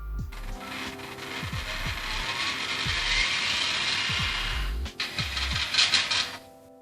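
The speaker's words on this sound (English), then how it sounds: "Now let's start our favorite Windows XP program, 3D Pinball." Windows XP 3D Pinball game sounds from a 2004 Sony Vaio ultra-thin laptop speaker at maximum volume: harsh, tinny, distorted bleeps and clunks with repeated mechanical flipper-like thumps, loud and continuous with no talking.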